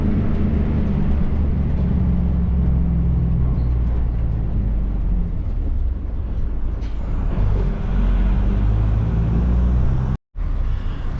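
A bus driving through the Mauritius countryside gives a loud, continuous engine and road rumble that stays steady throughout, apart from a brief dropout near the end.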